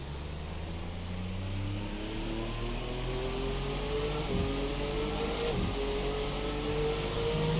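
A Formula Hybrid 2017 racing car in a racing simulator launches from first gear at Silverstone; engine holds low revs, then climbs in pitch as it pulls away, with a steady whine rising above a continuous mechanical drone.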